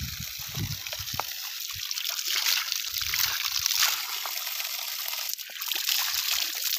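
Cold spring water runs out of a pipe line, a steady trickle and splash close by, carrying on without pause, with outdoor background noise and no talking.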